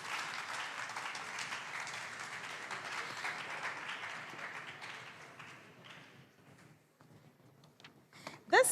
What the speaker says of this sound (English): clap is not motivating at all. You can do better, please.